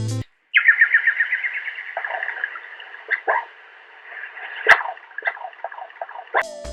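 Synthetic birdsong and nature sounds from an electronic instrument's nature mode: a bright trilling chirp sequence followed by scattered tweets, clicks and short calls, fairly close and clear, with no voices.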